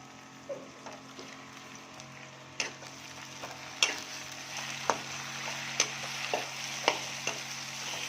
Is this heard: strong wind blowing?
no